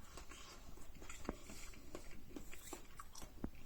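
Boiled broccoli is bitten and chewed near the mouth, a few soft crunchy bites over quiet, low-level mastication.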